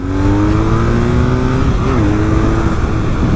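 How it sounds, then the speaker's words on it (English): A BMW R nineT motorcycle engine revs steadily and loudly, its pitch climbing and dipping slightly, close by with no talking over it. "This motor wants and needs to be revved."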